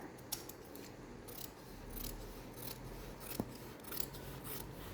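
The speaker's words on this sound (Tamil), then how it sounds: "இப்போ நான் இதை கட் பண்ண ஆரம்பிக்கிறேன் பாருங்கள்" Scissors cutting fabric for narrow band trousers, with quiet repeated snips and rasping blade strokes at close range against a soft background.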